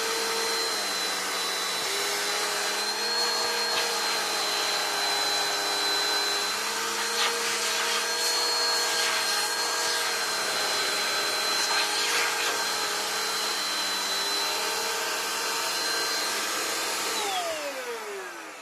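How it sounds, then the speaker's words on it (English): A vacuum cleaner with a repaired motor roars steadily for several seconds with a high whine, then powers down and winds to a stop at the end. "This is a good vacuum cleaner."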